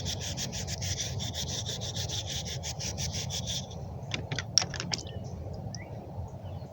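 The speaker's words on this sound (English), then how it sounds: "Let's give it a little polishing." Rusty file with worn chrome being polished, giving a steady, rapid rubbing scrape back and forth over a continuous low hum, then a few sharp clicks and taps once the rubbing stops.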